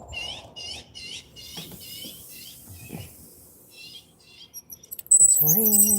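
A bird outside on a rainy day gives a quick series of high chirps in the opening seconds, with a few fainter calls later, while someone speaks nearby and a louder noise breaks in at the end.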